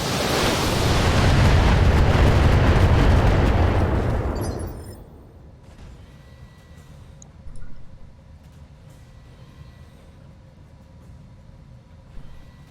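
A full volley from a battle mech's weapons in the BattleTech game, a long, loud, roaring blast that swells and holds for several seconds, then falls away into a low rumble with one small thump afterward.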